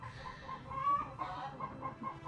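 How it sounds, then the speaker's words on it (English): Hens inside a chicken coop singing egg songs, a continuous, fairly close run of rhythmic clucking and cackling with no talk over it. "I think we have egg songs going on"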